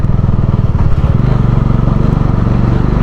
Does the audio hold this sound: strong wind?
no